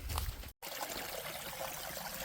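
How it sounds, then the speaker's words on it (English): A small stream of water flows beside a hiking trail, a continuous soft trickling and burbling that stays close and fairly quiet, broken by one very short dropout. "Nice little flow here. It's the first water we've seen in quite a while."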